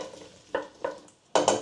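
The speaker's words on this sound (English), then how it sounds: "Give it a good stir." Leek and potato soup being stirred in a pot at home, three short scraping, sloshing bursts of spoon against the pot spaced apart, close and fairly quiet, the last one louder.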